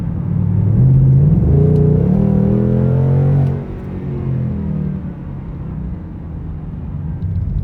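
Ford Mustang Mach 1 with an H-pipe and active exhaust set to track mode, heard from the cabin as a deep engine rumble swells through a short pull and then settles back to a low drone.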